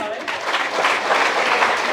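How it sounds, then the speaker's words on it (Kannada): A crowd claps loudly for a newly selected Agniveer army recruit, a dense burst of continuous applause lasting a couple of seconds with voices mixed in. "ಅವರಿಗೆ ಜೋರಾದ ಚಪ್ಪಾಳೆ"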